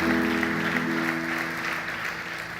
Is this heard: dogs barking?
no